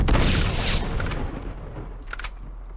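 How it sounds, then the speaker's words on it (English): A grenade blast in the action game Uncharted 2: Among Thieves, a loud close boom at the start fading into rumbling debris, followed by a couple of sharp crackling bursts. "He's throwing a grenade."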